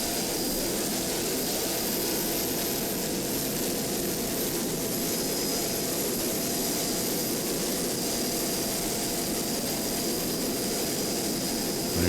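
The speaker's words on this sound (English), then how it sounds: "You see going by the Class 5 entry of Typhoon with Glenn Helwig and Candy Schluss." Steady, loud engine roar from a Class 5 offshore racing powerboat running past at the 2007 Point Pleasant Offshore Grand Prix, a continuous broadband drone with no speech.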